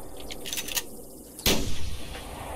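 Hunting rifle shot in theHunter Classic: one sharp, loud crack near the middle, preceded by faint clicks and followed by a short rumbling tail.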